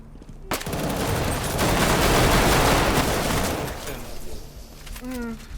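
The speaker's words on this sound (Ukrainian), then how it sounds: "І глока тоді буду стріляти" Rapid Glock pistol fire in the Roblox shooter Squid Game 2042 rattles in a dense, loud burst that builds and then fades, with a voice speaking near the end.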